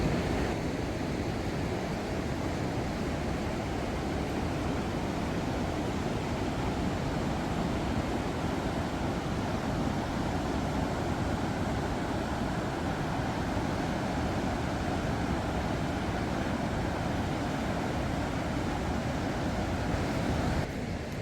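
Rushing flow of the Baspa River near Chitkul, running high and strong beneath a bridge, makes a steady, loud, continuous roar of turbulent water that stays unbroken throughout with no voices.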